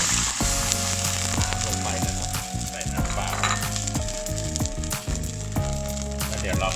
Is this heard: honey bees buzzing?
no